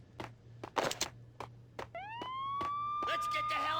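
A police siren in the video game Max Payne rises and wails steadily in the second half of the clip after a series of sharp bangs and clatter, with people talking over it.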